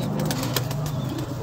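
Belgian pigeons in a loft give soft, low cooing close by, a brief murmuring burst with faint rustle and background chatter.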